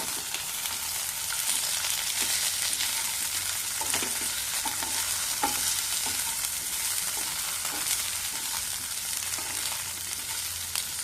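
Chopped green tomatoes fry in hot oil in a pan, with a loud, continuous close sizzle and occasional scrapes and clicks as they are stirred.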